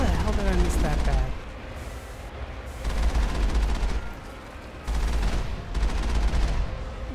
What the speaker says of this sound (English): I seriously just lay down suppressing fire and everything dies.